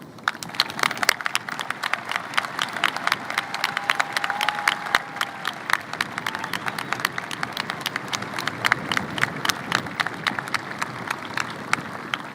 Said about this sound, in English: please join me in thanking these wonderful educators with a round of applause